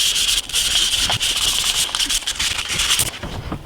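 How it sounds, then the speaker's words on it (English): Sandpaper rubbing across the backs of small model signs for a harbor wharf scene, a steady run of close, dry scratching strokes with brief pauses between passes. "I just sanded the back of the signs"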